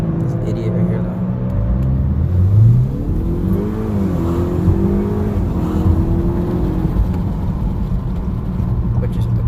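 A 2019 Honda Accord Sport 2.0 with an automatic transmission and its muffler deleted revs up and settles, its raspy exhaust tone rising and falling twice over a steady engine drone, close and loud, with a voice talking over it.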